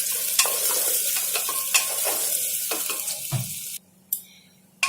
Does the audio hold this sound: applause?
no